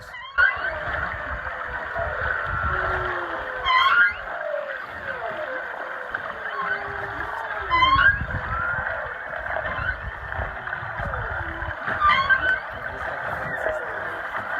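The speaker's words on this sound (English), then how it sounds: "These are actual whale sounds." Long, eerie whale calls recorded underwater off Maui, with rising and falling sweeps under a steady underwater hum, a few sharper chirps recurring every few seconds.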